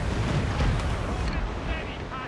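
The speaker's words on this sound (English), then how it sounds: "Cannon fire!" Ship cannon fire in the video game Assassin's Creed IV Black Flag comes as a dense, rumbling roar of heavy booms mixed with wind and sea noise. Crew voices are faintly audible under it.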